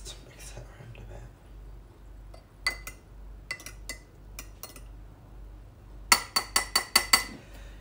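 A spoon clinks against the inside of a glass while a drink is mixed, first a few scattered taps and then a quick burst of about six sharp, bright clinks close by, with faint whispering and low background hum.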